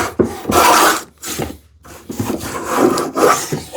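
Hand plane taking shavings off a wooden board, three rough scraping strokes close up, each a loud rasping swoosh separated by short pauses.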